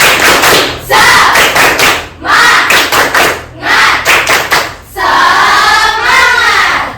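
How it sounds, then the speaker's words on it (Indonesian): A primary school class performs a rhythmic spirit clap, many hands striking together in loud, fast bursts separated by short pauses, with children's voices chanting and shouting along. "Tepuk semangat."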